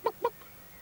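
A hen clucks twice in quick succession, two short, clear, fairly close clucks followed by quiet.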